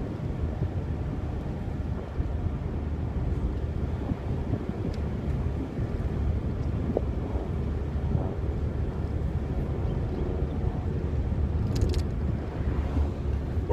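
A 2016 Mazda MX-5 Miata Grand Touring driving on a twisty country road near a golf course, with a steady low engine and road rumble mixed with wind noise that holds throughout.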